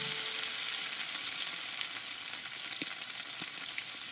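A chuck blade steak, sous vide cooked for 46 hours, is set down in a hot pan and sears with a loud, continuous sizzle, crackles and small pops scattered through the steady hiss.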